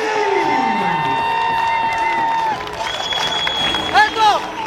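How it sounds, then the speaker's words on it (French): Crowd cheering and whooping at an outdoor contest after a double backflip attempt, loud rising shouts and clapping throughout with excited voices peaking near the end. "on applaudit Bibi"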